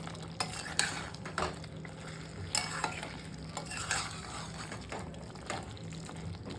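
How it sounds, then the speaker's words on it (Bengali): A fried spice mix is stirred into paneer sukto in a pan, bringing soft sizzling and a string of uneven spoon scrapes and clanks against the metal at a moderate, close level. "এবারে খুব ভালো করে মিক্স করে নেব।"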